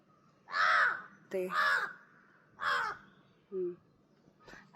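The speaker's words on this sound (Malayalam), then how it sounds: "മിണ്ടാതിരി കാക്കേ. കാക്ക ഭയങ്കര കോമഡിയാണേ" A crow calls near a rubber tree plantation, four loud harsh caws in an uneven series, each clear and close, with a fainter call at the end.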